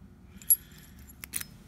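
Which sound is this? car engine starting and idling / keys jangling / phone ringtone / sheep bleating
keys jangling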